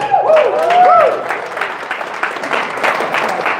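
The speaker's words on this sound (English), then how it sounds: "Thank you, everybody, for the wonderful applause." Audience applause for a speaker at a live real-estate investing event, a dense burst of clapping mixed with a whistle and voices, steady and fairly loud for the whole stretch.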